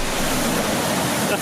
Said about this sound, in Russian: Это волнище